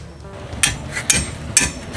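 Three sharp metallic hammer blows, evenly spaced about half a second apart, strike a ball joint on a truck's front end, loud and close with no talk.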